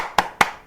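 Two sharp claps sound close together, about a quarter second apart, from an elementary class clapping their hands in a classroom. Each clap is loud and crisp with a short decay.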